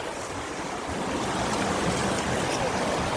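Water rushes steadily over a waterfall where a Hot Wheels track has been set up, a continuous loud hiss and roar heard close, with no voices over it.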